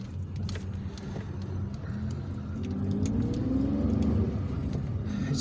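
Car driving through the streets of Algiers on a quiet early afternoon, engine hum rising gradually as it accelerates, steady road noise from inside the cabin, no voices.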